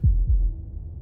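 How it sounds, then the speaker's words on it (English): Slow heartbeat from the video game Slay the Princess, two deep, muffled thumps close together near the start, then a low lingering rumble fading into quiet. "That was the sound of a heartbeat,"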